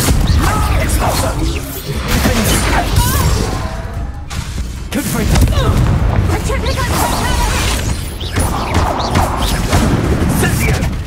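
Explosive spell blasts in the Hogwarts Legacy video game, loud crashes and bursts recurring through a dense, busy battle mix with shouted spell talk over it.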